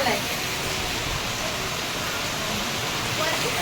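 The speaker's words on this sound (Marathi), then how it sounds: "पाऊस बघा किती जोरात आलाय" Heavy rain pours down in a steady, dense hiss during an outdoor Vat Purnima gathering of colony women, with faint voices beneath the downpour.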